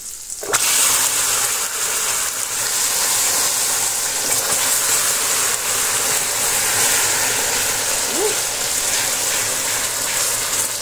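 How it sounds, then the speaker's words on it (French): Water poured onto hot sugar for a peanut nougatine, bursting into a loud, sustained hissing sizzle that steams steadily for several seconds, close and continuous. "Je vais rajouter de l'eau."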